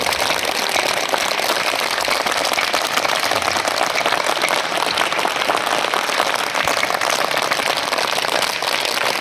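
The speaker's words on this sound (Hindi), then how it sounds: "जरा ये गड़गड़ाते हुए तालियों के साथ में" Thunderous, dense applause from a poetry-gathering audience at a late-night kavi sammelan on a bitterly cold night, a steady loud roar of many hands clapping without a break.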